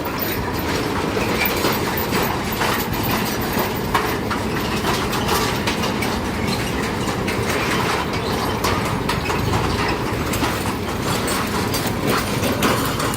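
A train of small sugar cane lorry wagons at a sugar mill rolls past steadily with continuous rumbling and clickety-clack, loud and close, no voices.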